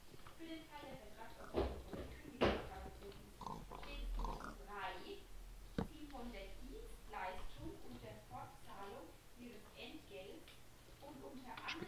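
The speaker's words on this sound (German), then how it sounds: "Das sind schon Schweine, sehr gut." Pigs oinking in Minecraft, repeated short grunting oinks scattered through the stretch, close and fairly clear, with a few sharp clicks between them.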